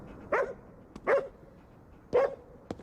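A dog in the video game Ghostwire: Tokyo barks three times, each a short clear woof spaced about a second apart, close and moderately loud with faint clicks between.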